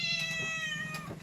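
A cat gives one drawn-out, tonal meow at close range, steady and fairly quiet over a low background hum.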